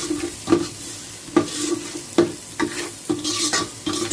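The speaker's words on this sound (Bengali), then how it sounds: "নিয়ে আমি চালটাকে একটু নাড়াবো ভালো করে।" Rice is stirred in a hot pan with salt, a spoon scraping and clinking against the metal in repeated strokes about once per second over a steady background sizzle of frying.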